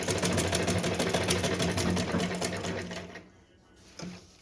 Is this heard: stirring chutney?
no